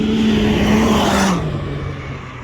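A 195 hp Can-Am Maverick X3 side-by-side roars loudly past at speed, its engine pitch dropping as it goes by and fades slightly.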